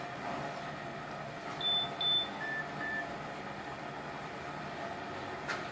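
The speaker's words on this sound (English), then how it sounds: "We'll hear the alarm go off here in a minute." A home-brewing timer alarm beeps during an IPA brew day, a few short faint electronic tones spaced about half a second apart over a low steady background hum.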